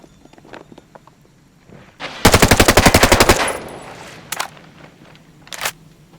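Automatic gunfire in the video game Ghost Recon Breakpoint: a loud, rapid burst of about a dozen closely spaced shots, followed by an echoing tail and a few scattered single shots and impacts.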